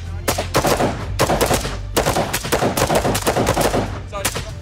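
Rifle gunshots at a shooting training session ring out in a rapid, evenly spaced series of sharp, loud cracks, several shots in quick succession with a low hum underneath.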